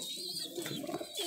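A giribaz high flyer pigeon with clipped wings coos briefly at close range, a soft rolling call over a hissy background.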